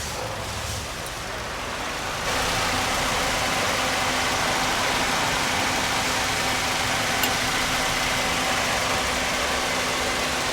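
A Toyota Vios second-generation sedan with a 1500 cc VVT-i engine idles steadily, a constant broadband hum with a faint tonal whine, rising slightly in level after the first two seconds and heard alone.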